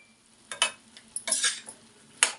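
Masala for prawn curry frying and being stirred in a pan: a few short, scraping stirs and bursts of sizzle over a quiet background, close by.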